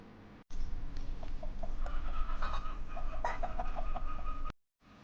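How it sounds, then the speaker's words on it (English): A group of farm chickens clucks and murmurs in a busy, overlapping chorus at moderate distance, with a low rumble of background noise under the calls. "Look at the chickens. They go cluck cluck."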